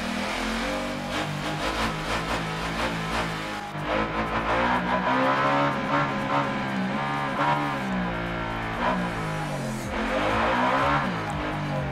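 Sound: Ducati Diavel motorcycle engine while riding

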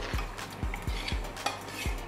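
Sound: stirring cooked sambar vegetables in a pot

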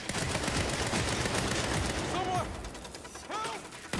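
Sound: gunfire in video game Saints Row

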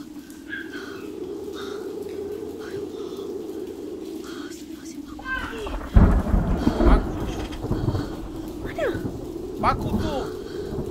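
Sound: thunderstorm and rain in a movie

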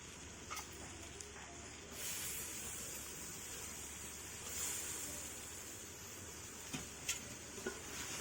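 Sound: prawns frying and being stirred in pan with ginger-garlic paste

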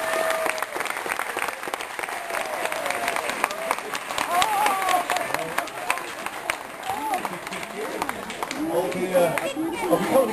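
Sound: studio audience applause for the crew

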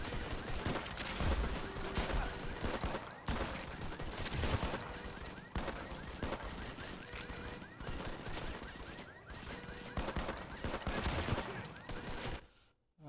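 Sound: handgun gunshots in the video game Modern Combat 5

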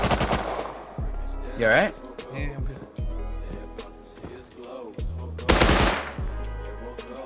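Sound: gunfire from a video game (Rust)

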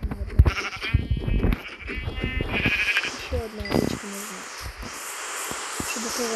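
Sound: sheep bleating in Minecraft video game

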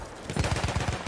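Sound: machine gun fire in a World War I video game

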